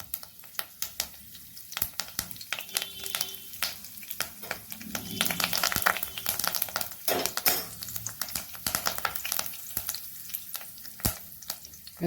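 Cloves, cinnamon, cardamom and curry leaves sizzle and crackle in hot oil in a pan while preparing methi chicken curry, with a spoon stirring and clinking against the metal, sputtering bursts rising midway.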